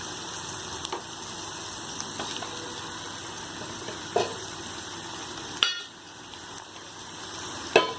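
Ingredients sautéing in a pan for garlic rice, a soft steady sizzle with a few scattered clicks and scrapes of a spoon stirring.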